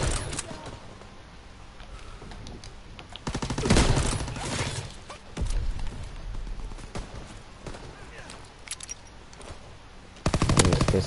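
A light machine gun fires in a World War II video game, with long rapid automatic bursts, loud and repeated, separated by brief pauses.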